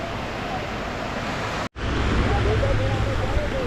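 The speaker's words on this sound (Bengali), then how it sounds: "এটা ঢেউগুলো দেখো কি সুন্দর আসছে" Sea waves roll in at Bakkhali beach as a loud, steady broadband roar with wind buffeting the microphone, a short dropout midway, and a voice faintly present.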